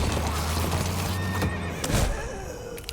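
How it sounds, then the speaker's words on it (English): Horses neighing in The Walking Dead: A New Frontier video game, a whinny with hoof clip-clops and thumps amid a low rumbling background. "The horses? Oh, there's a happy sight."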